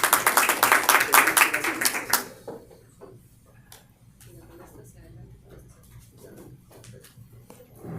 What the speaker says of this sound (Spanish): Fuertes palmas para ellos, por favor.